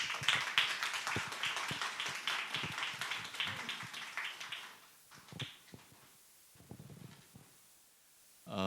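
Church congregation clapping to welcome the pastor to the pulpit, a steady round of applause that fades into a few scattered claps and quiet.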